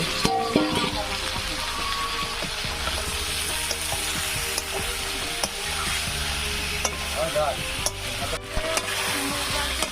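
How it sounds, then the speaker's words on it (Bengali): Boiled potatoes and boiled green bananas being sautéed in a spice paste, with a continuous loud sizzle and frequent scraping stirs of a spatula against the pan, close and steady. "তখন আলু সিদ্ধ কলা সিদ্ধ দিয়ে দেবো, দিয়ে এদিকে একটু কষা নেব"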